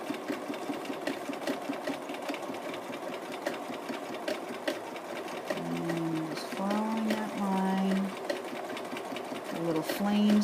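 A sewing machine fitted with a clear darning foot does bobbin stitching in a fast, continuous whirring run of needle strokes, with brief pauses and someone speaking over the machine.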